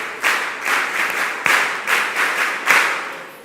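An audience at a mentorship session claps after a talk. The applause is steady and fairly loud, rising in several waves with no talking over it.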